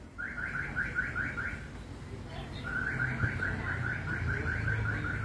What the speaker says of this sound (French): nous entendons les oiseaux